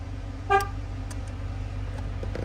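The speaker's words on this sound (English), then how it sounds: "it will honk the horn when learns to, as long as you hook that horn wire up" A 2003–2007 GMT800 truck gives one short, bright honk from its horn over a steady idling engine rumble, triggered by a newly installed remote starter.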